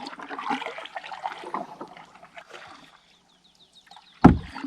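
Paddling a canoe on a lake in Woodland Caribou Provincial Park: water splashing and trickling off the blade, with a gentle dripping lull and then a sharp loud splash near the end.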